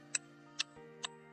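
Three sharp, high-pitched taps on the hollow metal handle of a knife, evenly spaced and ringing briefly, with a faint steady hum underneath.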